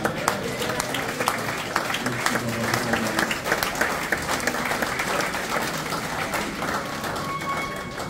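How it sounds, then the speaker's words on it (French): A church congregation applauding and cheering, a thick sustained roar of clapping mixed with crowd voices and shouts, loud and continuous, with a faint tone near the end. "acclamons encore le Seigneur"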